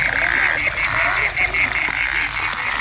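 A dense chorus of frogs croaking continuously after rain at Wadi Shawka, loud and steady, with layered trilling calls overlapping throughout.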